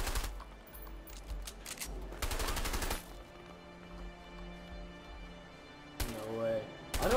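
Bursts of video game gunfire from A Way Out, several rapid volleys around the start and middle with a final burst near the end, loud and close, mixed with game music and effects.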